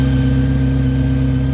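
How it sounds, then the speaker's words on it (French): A McLaren Speedtail engine idles in Paris, with a steady, loud low hum and a constant drone that holds evenly throughout. "surtout là le moteur qui tourne"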